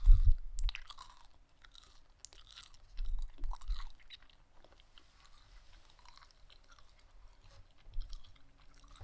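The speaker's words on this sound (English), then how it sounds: "I'm gonna chew some gum if you don't mind." Close-up chewing of gum, with soft wet mouth clicks and smacking in irregular bursts over several seconds, quiet and intimate with no talking.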